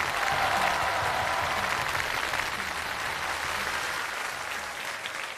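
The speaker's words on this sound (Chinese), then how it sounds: "谢谢您各位的掌声啊" Steady, full audience applause at a crosstalk comedy show, many hands clapping together for several seconds, dense and even, with no voices rising above it.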